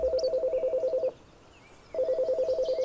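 A telephone rings in the video game Chicory: A Colorful Tale, two loud bursts of rapid electronic trilling separated by a short pause, with no talk over it.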